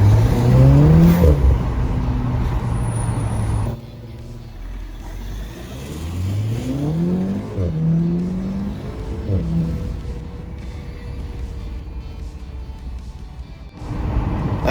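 A VW Golf R in normal drive mode, with its exhaust still unmodified, pulls hard from close by. The engine note climbs in rising sweeps, breaks at the gear changes, then surges and revs upward again.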